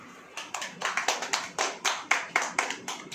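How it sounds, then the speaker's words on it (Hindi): Clapping hands from a congregation at a Hindi sermon by Brother Rohit Massey, a series of sharp, distinct claps in a quick, even rhythm, fairly soft with no talking. "अब ताली हो जाओ"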